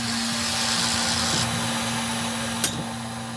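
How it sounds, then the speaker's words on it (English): A hairdryer in a photo booth drying a printed photo blows with a steady, loud whirring drone and a constant low hum, briefly interrupted by a short click. "you'll hear just a basic hairdryer that tries to dry your photo off a little"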